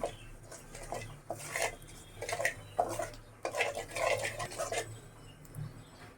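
A kadai (wok) set down on a stove and mustard oil added: a series of close metallic clanks, knocks and scrapes at uneven intervals, with quiet background between them and no speech.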